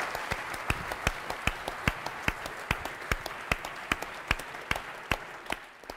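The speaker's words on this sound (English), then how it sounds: "ask that you give all of our presenters a round of applause" An audience claps for presenters at a tech startup event, the applause fairly quiet and distant, made of sharp separate claps at a steady pace that thin out toward the end, with no talk over it.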